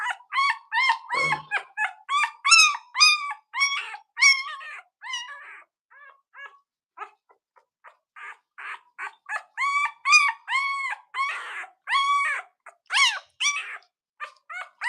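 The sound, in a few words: newborn puppy whimpering during bottle feeding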